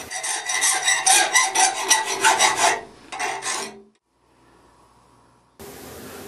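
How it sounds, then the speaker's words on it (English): A hand file rasps over the rough cut edges of a 16-gauge sheet metal latch in a blacksmithing shop, loud rhythmic back-and-forth strokes close by, then a brief pause, a short quiet stretch and a sudden hiss of noise. "we just need to clean up all the rough edges with a file"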